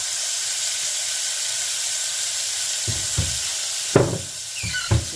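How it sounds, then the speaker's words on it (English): Garlic and ginger fry in olive oil with a steady, close sizzle and hiss, joined near the end by a few clinks and scrapes of a utensil stirring the pan. "So I will fry it for a while"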